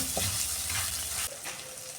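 Onions sautéing with salt in a pan over a low flame for a mackerel fish curry, giving a steady soft sizzle with stirring scrapes, which thins out abruptly partway through.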